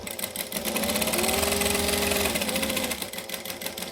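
A sewing machine stitching fabric for a small zippered pouch runs steadily at close range for about three seconds, its motor whirring and needle rattling evenly before slowing to a stop, with no talk over it.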